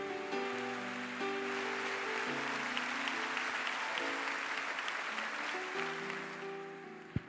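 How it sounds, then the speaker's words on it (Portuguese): A church congregation applauds in a long, steady wash of clapping, with music and sustained organ-like keyboard tones underneath, ending with one sharp thump. "Se você crê nisso, aplauda Ele mais uma vez"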